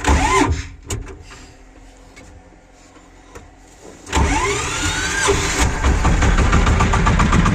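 A tractor engine with its fan on sputters and cranks without a decompressor, with a few sharp knocks, then catches and roars to a steady, loud running rumble.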